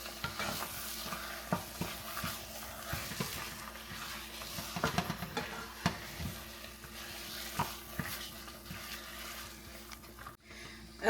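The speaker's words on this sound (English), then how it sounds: "So we're just gonna go ahead and mix all this in." Spinach dip ingredients are stirred and folded together in a bowl, giving a steady, close scraping and sloshing texture with irregular soft knocks of the utensil throughout, no voices.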